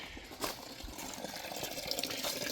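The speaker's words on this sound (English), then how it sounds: "And I'm draining the antifreeze out now." Antifreeze draining from a Cummins generator, a quiet, faint trickle of liquid running steadily with a few small splashes, no talk.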